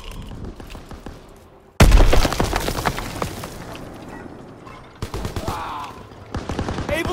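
Call of Duty WWII multiplayer gunfire: dense bursts of rifle and machine-gun shots, loud and close, crackling in rapid rhythm after a quieter start, with a brief pause before the firing resumes.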